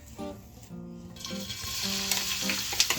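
Cabbage, onions and scallion hit a hot pot with saltfish, giving a soft, steady sizzle and crackle with faint stirring, close but quiet.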